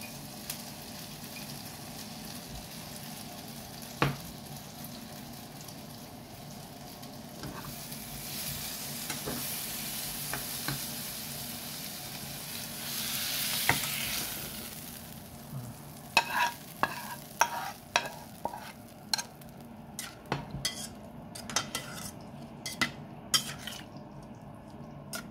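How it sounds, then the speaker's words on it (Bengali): Pointed gourd (potol) slices fry in a pan for a Bengali hilsa dish, a steady sizzle underneath, then a run of sharp spatula scrapes and clinks against the pan as the frying vegetables are stirred, no talking. "ওইদিকে পটল ভাজাটা প্রায় হয়ে গেছে"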